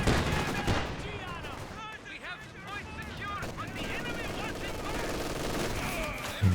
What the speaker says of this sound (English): MG suppressing.